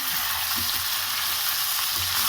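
Bone-in chicken being fried with garlic and ginger, an even, dense sizzle of hot oil that holds steady throughout at close range, with faint stirring and no voices.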